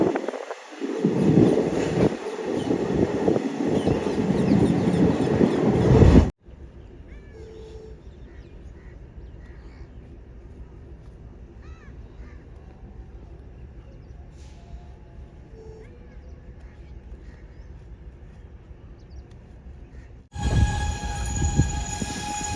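A train at the Fatehgarh Churian railway station platform rumbles loudly and close for several seconds, drops to a quiet station ambience with faint bird calls, then the loud train noise returns at the end.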